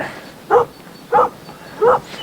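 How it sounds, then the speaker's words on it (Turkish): Dogs bark three times in an evenly spaced series, sharp loud woofs about half a second apart over quiet background. "tam o geliyor diye çift köpekle seni karşıladık diye"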